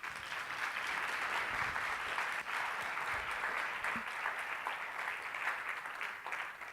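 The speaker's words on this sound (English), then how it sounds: "Give her a round of applause." An audience at a communication workshop claps for a volunteer, with a steady wash of many hands at moderate, even loudness from start to finish.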